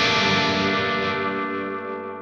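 A high-gain amp simulator with delay and reverb plays a heavily distorted electric guitar chord that rings out with thick, saturated gain, sustaining and slowly decaying over a couple of seconds.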